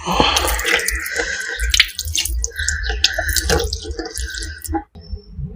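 Water is poured into a washbasin while it is checked for leaks, giving a close, loud splashing and gurgling with drips and small clinks that cuts off abruptly near the end.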